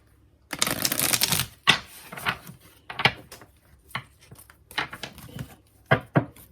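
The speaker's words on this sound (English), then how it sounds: "I'm actually going to shuffle this. I'm going to shuffle." Tarot cards are shuffled in rapid riffling bursts, a long one first and then several shorter shuffles and taps spaced through the clip.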